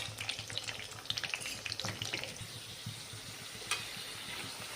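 Potato pieces frying in hot oil give a steady, close sizzle and crackle, with a few sharper pops and stirring scrapes near the start.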